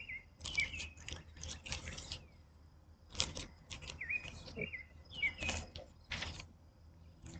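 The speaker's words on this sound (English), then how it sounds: "I love the birds tweeting, don't you? Very relaxing." Small birds chirp in short bright bursts, some distant and some nearer, mixed with brief fluttery flapping and faint background rustle, fairly quiet overall.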